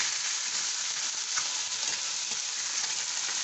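Small fish fry in a pan with a steady, dense sizzle of hot oil that holds at an even level throughout, with faint bubbling crackles and no voices.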